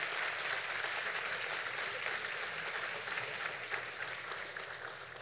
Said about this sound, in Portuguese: Aplausos para essa gente bonita